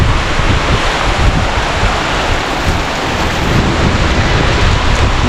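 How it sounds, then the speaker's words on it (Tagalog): Heavy rain pouring down steadily and loudly, a dense continuous roar with no voices, while stranded on the road from Manila to Baguio via Kenon Road. "Oh my god, ang lakas ng ulan."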